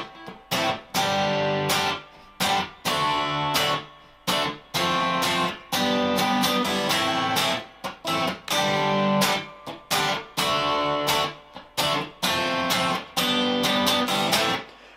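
Strummed guitar chords from a song repeat in a steady, driving rhythm with short choppy gaps between bursts, loud and close, no voices.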